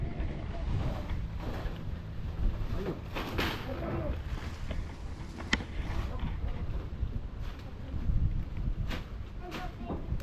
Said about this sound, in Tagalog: Galing dyan ang hangin, malakas.